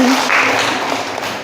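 A short burst of steady group clapping fills a classroom during a teaching-practice lesson, dense and even, with no voices over it.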